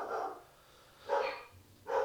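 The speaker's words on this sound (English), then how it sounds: "my dogs are barking" Dogs barking indoors in three short bursts of one or two barks each, fairly loud and close, with quiet pauses between and no talking.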